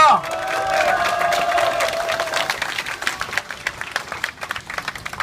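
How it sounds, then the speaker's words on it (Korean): A brief voice gives way to a crowd applauding and cheering at a Korean election campaign rally, the clapping loud at first and thinning out toward the end. "존경과 응원의 박수 한번 보내주십시오"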